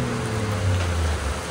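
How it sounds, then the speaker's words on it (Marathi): Heavy rain falls in a steady, dense hiss that stays even and fairly loud throughout, with a faint low hum beneath and no voices. "पाऊस दाखवू आपण."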